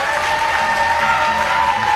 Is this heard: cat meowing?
no